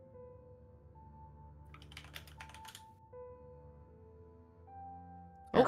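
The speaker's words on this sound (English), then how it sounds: "Furious typing." A short burst of rapid typing on a computer keyboard, about one second of quick clicks over a steady tonal hum, ending in a sudden loud bump.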